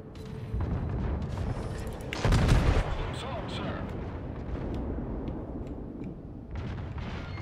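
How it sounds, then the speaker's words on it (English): Secondary guns of an Iowa-class battleship firing in World of Warships, a dense run of booming shots and rumble with a heavier burst midway, under a player's voice. "Secondaries open up."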